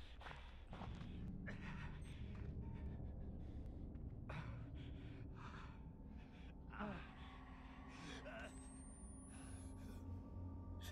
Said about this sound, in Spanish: Se deja de jadear.